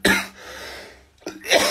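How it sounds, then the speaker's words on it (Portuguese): Two separate harsh coughs from a person recovering from flu, close to the listener, with a short breathy pause between them. "mostrar um pouco de tosse aí saindo de uma gripe"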